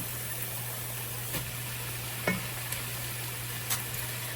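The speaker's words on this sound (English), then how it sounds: "Now that we've got our garlic, our onion, and our celery softened, we are going to add our green pepper." Green pepper sautéing with onion, celery and garlic in a pot, with a faint steady sizzle, a low hum and a few light clicks of a utensil.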